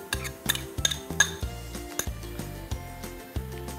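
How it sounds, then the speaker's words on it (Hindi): Boiled mashed potatoes going into a pan of spiced pav bhaji, heard as a quick run of metallic clinks and scrapes of a spoon against the pan, close and fairly loud, with no talking. "इसमें अब हम डालेंगे boiled and meshed potatoes there goes"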